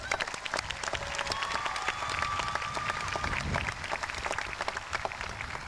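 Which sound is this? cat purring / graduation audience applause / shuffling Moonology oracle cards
graduation audience applause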